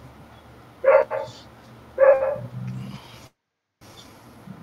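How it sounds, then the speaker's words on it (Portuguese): A dog barks in a few sharp, fairly close bursts, followed by a lower growl-like sound, with a brief silent gap and quieter noise after. "É, o cachorro avisou."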